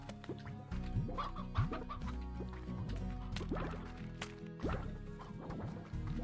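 Chickens in a video game cluck and squawk steadily over a looping game background. The bird calls are close and repeat every second or so.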